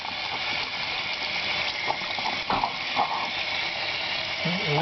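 Steady rushing water fills the whole stretch, with occasional splashes and squelchy handling noises as persimmon pulp is rinsed off seeds under the stream.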